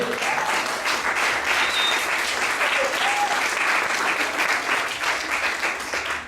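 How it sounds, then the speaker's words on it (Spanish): A church congregation gives loud, sustained applause during a sermon, dense clapping from many people holding steady before easing off slightly at the end, with faint voices mixed in. "denle un fuerte aplauso al Señor"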